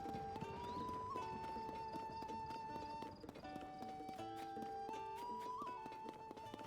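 Horse hooves clip-clop in The Legend of Zelda: Tears of the Kingdom, a steady quiet trotting rhythm over game music with tonal notes, faint and continuous.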